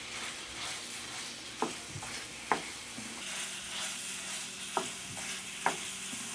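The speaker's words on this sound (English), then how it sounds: "So we're just going to brown the sausage and get it all good and mixed" Steady sizzling of sausage browning in a pan, with a few sharp scrapes and clinks of a utensil stirring it at irregular moments.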